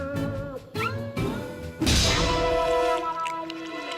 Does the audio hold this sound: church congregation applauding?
no